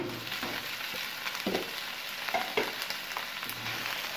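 Fried chicken mixed into browned onions in a pan for a bitter gourd chicken curry, giving a soft, even frying hiss with a few louder clinks of stirring close by.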